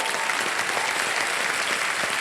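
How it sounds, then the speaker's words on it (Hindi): Steady applause from a television game show studio audience, dense and even throughout, with no voices standing out. "तालियां बज जाए"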